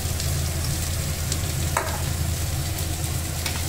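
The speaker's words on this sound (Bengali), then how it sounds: "মশলাগুলো দেখুন খুব সুন্দর করে বাদামি করে একদম ভাজা হয়ে গেছে।" Spices sizzle and fry in a pan until browned, a continuous close crackling hiss with occasional stirring scrapes and no talk.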